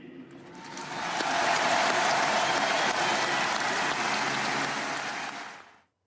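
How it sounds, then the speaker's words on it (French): A large crowd breaks into a dense roar of applause for Johnny Hallyday, swelling within a second to a full, sustained wash of clapping before cutting off abruptly. "d'applaudir Monsieur Johnny Hallyday"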